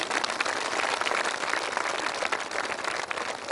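Crowd clapping fills a hall at a Brahma Kumaris dedication ceremony in Bahadurgarh, a thick, continuous wash of applause from many people, loud and unbroken for a few seconds.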